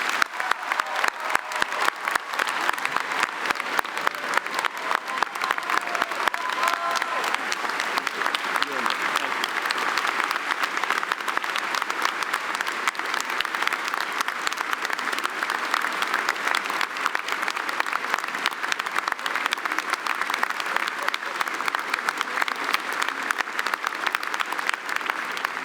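Sustained applause from a large audience at a Georgetown College convocation ceremony, a dense, even roar of clapping that holds steady and loud from start to finish.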